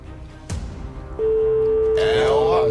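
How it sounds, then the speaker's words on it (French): Telephone ringing on a live TV game-draw call: a short knock-like sound, then a steady electronic ring tone that sustains to the end, with a brief rustle near the close. "Deuxième sonnerie."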